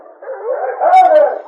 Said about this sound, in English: Listen to those dogs howling.